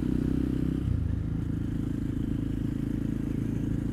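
A light KTM supermotard motorcycle engine drones steadily and loudly throughout, a continuous low-pitched hum with some clatter, heard while riding at speed.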